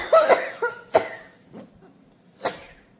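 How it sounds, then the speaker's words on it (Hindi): A woman coughs after eating ice cream, with a few harsh, close coughs and throat clears spread across a short pause-filled stretch. "खांसी शुरू करवा दी है।"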